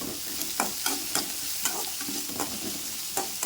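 Onions sauté in a pan with a constant sizzle, punctuated by regular scraping stirs of a spatula roughly every half second, close and clear with no talking.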